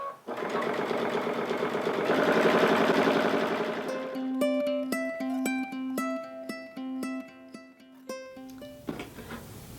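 A sewing machine stitches binding onto a quilt a few inches at a time, first in a steady continuous run, then in short separated bursts of needle pulses, close and clear with no talk.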